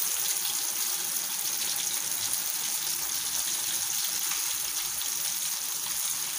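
Water trickles slowly and steadily into water chestnut flour for a fasting vada batter, a soft continuous pouring hiss heard close up with no talking.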